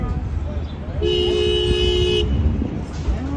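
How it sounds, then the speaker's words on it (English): A car horn on a New York City street gives one sustained, steady honk lasting about a second, loud and close, over street noise and people talking. "you're just honking the horn"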